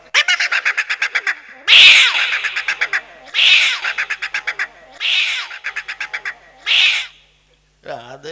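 A voice at a Gujarati dayro folk performance imitates two cats meowing on a rooftop, with repeated rising yowls and caterwauls traded back and forth over a rapid pulsing rhythm.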